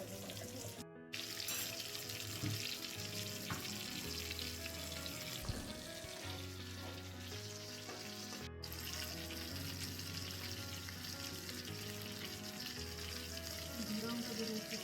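A whole tilapia fries in a pan, giving a soft, steady sizzle close by with a few brief breaks, while a low hum runs underneath.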